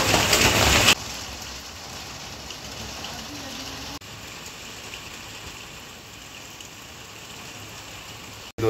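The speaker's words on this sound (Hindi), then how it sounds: "बारिश हो रही है देखो लगातार लगी हुई है" Steady heavy city rain hisses in a dense, constant wash of noise, with a louder burst at the start and a faint vehicle rumble underneath.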